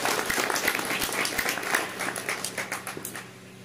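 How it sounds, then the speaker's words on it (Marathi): An audience at a talk applauding, a dense burst of clapping that thins and fades toward the end. "याबद्दल तुम्ही सगळ्यांनी स्वतःसाठी एकदा छान जोरदार टाळ्या वाजवायला पाहिजे."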